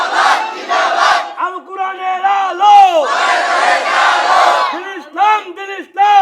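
A large crowd roars a takbir chant in unison at a political rally, a single voice leading before massed voices answer in long, loud, echoing shouts that swell and fade in waves.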